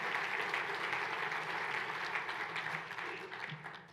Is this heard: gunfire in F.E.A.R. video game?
no